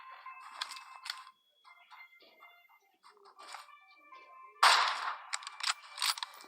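Gunfire in the video game PUBG lands a headshot: several sharp, clipped shots crack at intervals, the loudest burst coming late with a quick cluster of follow-up pops, fairly close and without talk.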